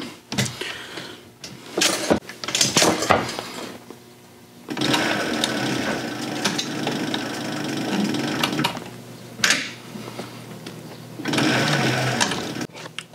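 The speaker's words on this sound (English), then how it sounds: "as you're sewing along, you want to be sure you're pushing up against your guide and following that so you don't get too far out" A sewing machine stitches along the welt of a handmade kidney bean purse, running loud and close in several steady bursts separated by short pauses.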